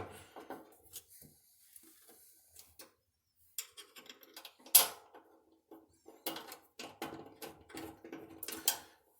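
Screw being driven into the tensioner on a Samsung dryer, model DV45H7000EW/A2, heard as quiet, sporadic close clicks, ticks and ratcheting scrapes, with a few sharper knocks toward the end.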